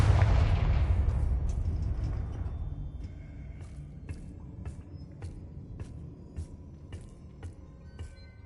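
Spell blasts from the Confringo blasting curse in the Hogwarts Legacy video game: a heavy booming explosion that rumbles and fades, then a run of sharp, evenly spaced crackling impacts.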